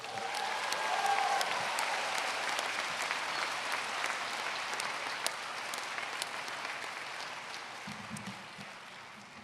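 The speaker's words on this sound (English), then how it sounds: "Please give him another round of applause." Sustained applause from a graduation ceremony crowd for Dr. Zuniga, a broad steady wash of many hands clapping that slowly tapers, with a low murmur entering near the end.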